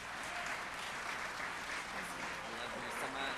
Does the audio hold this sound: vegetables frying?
no